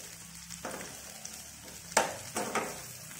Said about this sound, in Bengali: ব্রকলিগুলো দিয়ে দিচ্ছি, যেহেতু সেদ্ধ হতে সময় লাগবে। মিডিয়াম ফ্লেমে সটে ফ্রাই করে নেব 2-3 মিনিট।